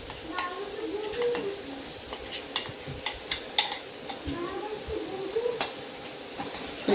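Spoon stirring flour into a Mysore pak mixture in a pan over low heat, scattered light scrapes and clinks against the metal, close but soft, under a quiet background hum.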